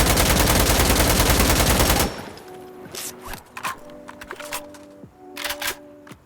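Automatic gunfire from Insurgency: Sandstorm, a dense rapid burst for two seconds, then scattered single shots and clicks with softer bursts, no talking.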